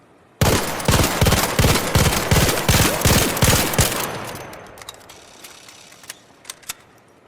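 A gun in ARC Raiders fires a fast, loud string of about a dozen evenly spaced shots, then the action stops and a few clicks and faint mechanical sounds follow as the echo fades.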